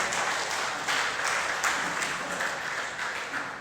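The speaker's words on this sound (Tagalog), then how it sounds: "Palakpak ulit sa Panginoon." A church congregation breaks into sustained applause, many hands clapping in an even, moderately distant roar with slight swells.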